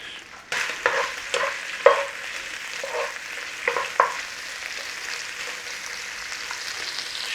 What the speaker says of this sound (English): Stir fry, little bit of colour. If it's got fat on, crisp it up.